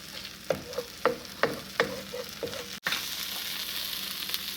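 White parts of scallions sizzling in a pan while being stirred, with several scraping strokes over a steady frying hiss that grows fuller after a short clunk, no voices.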